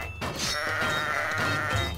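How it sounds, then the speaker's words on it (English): Sheep bleating in the tower-defense video game Kingdom Rush, a wavering, drawn-out cry over steady game background sound, with no talk over it. "Sheep, sheep."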